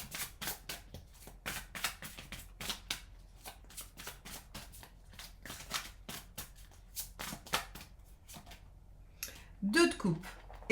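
Tarot cards are gathered and shuffled by hand in a run of quick, crisp riffling bursts close up, with short pauses between them and a few handling noises near the end.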